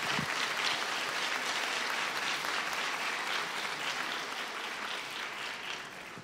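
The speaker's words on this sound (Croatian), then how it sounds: "molim vas jedan veliki aplauz za skupinu Sovice iz objekta Izvor" Audience applause at a kindergarten anniversary celebration in Petrinja, a dense steady roar of many hands from a large crowd, sustained throughout and fading slightly at the end.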